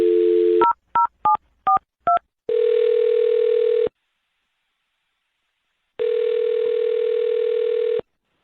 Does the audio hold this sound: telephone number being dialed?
yes